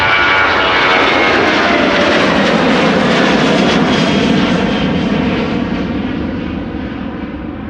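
Airliner PH-BXO, a 24-year-old jet first flown in June 2001, roars loudly and steadily as it departs Amsterdam Schiphol, its broad engine rumble holding strong before easing slightly toward the end, with no voices.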